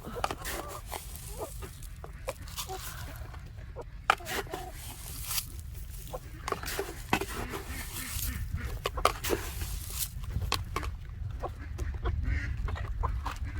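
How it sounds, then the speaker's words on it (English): Several hens cluck on and off amid a noisy outdoor background, their calls scattered and fairly faint throughout. "They're smart, these chickens."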